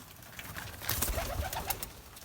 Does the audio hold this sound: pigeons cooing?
yes